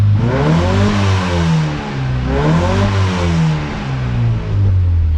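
An Austin Mini engine with a Sunbeam carburettor revs under full load, its pitch rising and falling in repeated swells, loud and close, with no voices.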